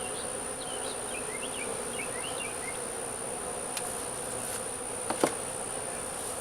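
A thick, even drone of bees buzzing up close on hive frames, constant throughout, with a few faint bird chirps and small clicks near the end.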